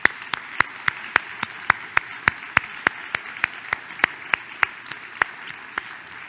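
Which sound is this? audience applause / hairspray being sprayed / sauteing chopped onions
audience applause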